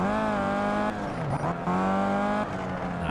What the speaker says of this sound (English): I know it's like the squealing of the brakes